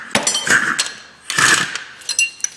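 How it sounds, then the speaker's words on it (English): Metallic tool clanks and clinks from a torque wrench being handled while tightening wheel bearing bolts on a Chevrolet Sonic front end during a brake job, a few close, sharp bursts separated by short pauses. "Grab the torque wrench."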